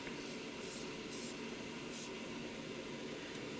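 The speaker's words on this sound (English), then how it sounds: "Short sprays." Short spray-paint bursts hitting a sandblasted metal piece, about three distinct hissing puffs over steady background noise, fairly close.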